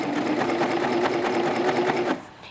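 A serger sewing machine stitches fabric around a corner, running steadily with a fast, even motor hum and needle rhythm for about two seconds before stopping abruptly.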